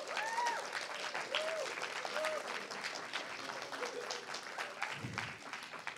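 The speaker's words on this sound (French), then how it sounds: "Vous pouvez l'applaudir." Steady applause from a live audience at a talk on cinema and video games, dense clapping filling the room for several seconds while a voice speaks over it.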